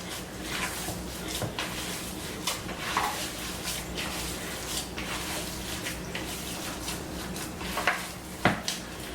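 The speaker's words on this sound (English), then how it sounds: "I'm just going to mix in that salt and pepper" Salt and pepper being worked into a meatball mixture in a bowl, soft quiet scraping and squelching with scattered light knocks against the bowl, close and low in level.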